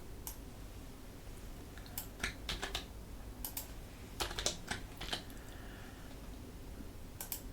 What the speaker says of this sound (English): Why am I typing this?